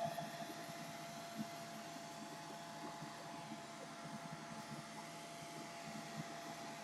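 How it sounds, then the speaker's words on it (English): A blow dryer runs in a steady, faint whooshing drone, drying acrylic paint on a canvas, continuous and even throughout with no speech. "let's get the blow dryer and we will blow this down a little"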